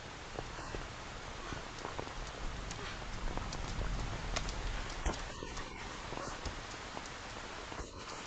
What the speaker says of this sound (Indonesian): Hujan deras sekali.